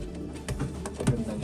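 A racing pigeon coos briefly in a loft, a soft low throaty call near the end over faint background rustle and patter, nearby and fairly quiet.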